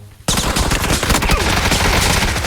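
Sustained automatic gunfire from a powerful gun in the battle-royale game PUBG bursts in suddenly and continues as a loud, rapid, unbroken volley with no voices over it.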